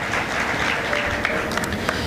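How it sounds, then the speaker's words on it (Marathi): A crowd at a Marathi comedy speech for police recruitment aspirants claps in a dense, sustained burst of applause, loud and even throughout with a few sharper individual claps near the end. "टाळ्या बिळ्या वाजवताना रोग येऊ द्यायचा नाही, अटॅक येत नसते, जोरात वाजवायच्या"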